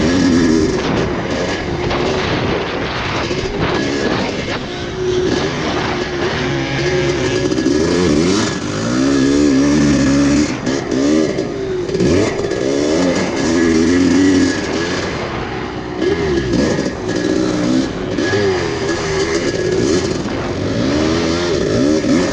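A Kawasaki KX500 two-stroke dirt bike races a TVRC track at Nocona, its engine loud and close, revving and surging continuously as the rider works the throttle through the course, with other bikes nearby.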